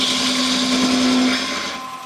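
A wood lathe spins a turned bowl while a hollowing tool cuts its inside, giving a steady, close whirring hum with a rough scraping hiss that eases off near the end.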